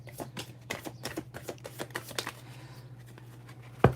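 Tarot cards are shuffled up close in a run of sharp, rhythmic riffling clicks that fade toward the end. A steady low hum sits underneath, and a single sharp knock closes the passage.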